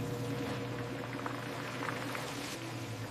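Potato chips fry in a large vat of oil in a factory, a steady low bubbling sizzle with a constant machinery hum beneath it, heard alone and at moderate level.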